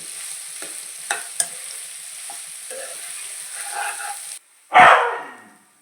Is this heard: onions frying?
yes